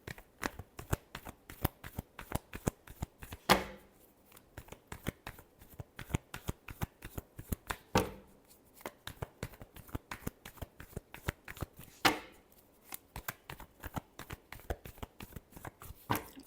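Tarot cards being shuffled by hand: a rapid stream of crisp riffling clicks, close and fairly quiet, with a few louder snaps as the deck is squared at intervals.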